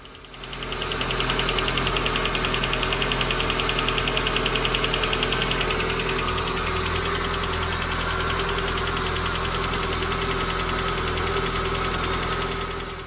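A car engine runs steadily after its timing setup was replaced, a continuous close idle with a persistent knocking rattle and mechanical ticking, no voices over it.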